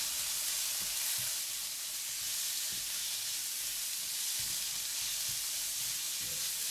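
Minced meat frying in garlic oil in a pan gives a steady, close sizzle and hiss, with occasional soft scrapes and stirs throughout and no talking.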